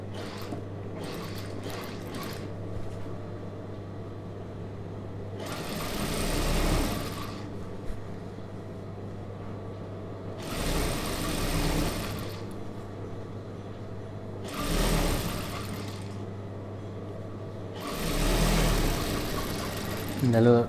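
A sewing machine runs in several short bursts while stitching a star-neck churidar, its motor whirring up briefly every few seconds over a steady low hum, with quiet gaps in between.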